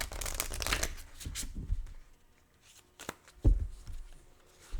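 Hawaiian wisdom oracle cards are shuffled up close in quick riffling bursts, with a denser flurry at the start and a few brief slaps and taps after pauses, with no talking.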